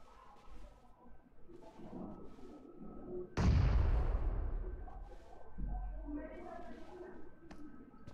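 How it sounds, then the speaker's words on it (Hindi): A grenade blast in a video game erupts suddenly as one loud, close explosion, then rumbles and fades over a couple of seconds, with quieter game noise and faint talk around it. "ये कौन ग्रेनेड फेंक रहा है?"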